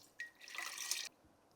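A little water is poured into a blended summer drink mixture, a short, faint stream of splashing lasting under a second, quiet and alone without any talk.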